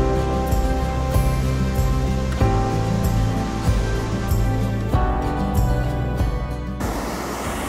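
Rapids feeding into a waterfall at National Creek Falls make a loud, continuous rushing wash, with music playing prominently over the water.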